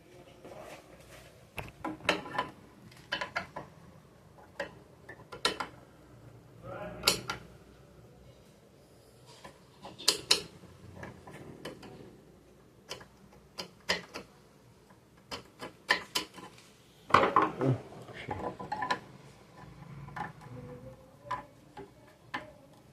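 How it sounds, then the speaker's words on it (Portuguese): Unscrewing and opening a jammed Elgin sewing machine that was making a strange noise: a run of small, sharp metallic clicks and ticks at close range with quiet pauses between them, and a louder cluster of rattling knocks partway through. "Estamos abrindo aqui o parafuso."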